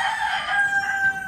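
Chickens in a backyard coop call out with a short, loud crow-like note that rises and holds for about a second, close by, with no talking.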